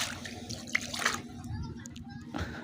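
Running water splashing steadily from a tap or hose, close and moderately loud for a few seconds, with a voice talking faintly over it.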